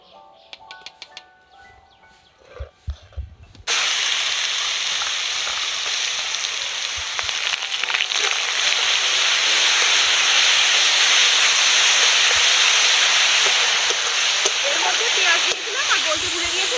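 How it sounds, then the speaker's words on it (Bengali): Ground onion and garlic paste hits hot oil in a pan and breaks into a loud, steady sizzle that continues unbroken after a few quiet clinks. "বেটে রাখা পেঁয়াজটা দিয়ে দেব।"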